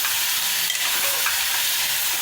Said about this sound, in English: Now add the finely grinded tomato paste which I've already done.